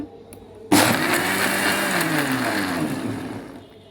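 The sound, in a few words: blender blending pomegranate juice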